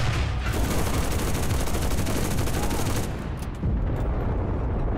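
Sustained machine gun fire rattles in an Enlisted infantry battle, a loud rapid continuous burst that briefly cuts off near the end before another surge of gunfire.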